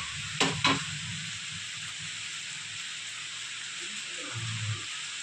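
Vegetable chila batter being stirred with egg and water in a bowl, a soft continuous wet mixing sound with two brief sharp clinks near the start.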